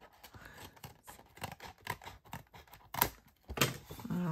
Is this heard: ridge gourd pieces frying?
no